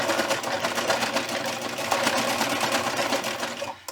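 A sewing machine runs steadily in zigzag stitch on a fleece ear warmer, stitching forward and back with a close, continuous whirring rhythm that stops abruptly near the end.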